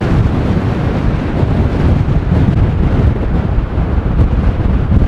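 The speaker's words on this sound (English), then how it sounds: "That is a lot of wind." Hurricane-force wind in an Arctic coastal town in Norway buffets a van, a loud continuous roar with heavy low rumble and microphone wind noise throughout, no voices.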